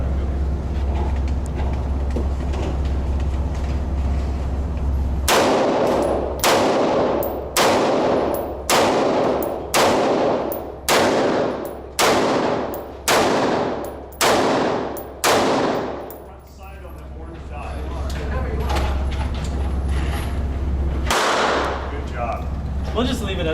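Gunshots at a gun range, about a dozen loud, evenly spaced reports cracking close by, each with a short ringing decay, then a pause and one final shot over a steady low rumble.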